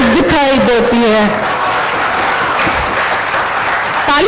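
A crowd applauds a Hindi poet at a Hindi Diwas poetry recital in Patna, with dense, steady clapping under a speaking voice at the start and end.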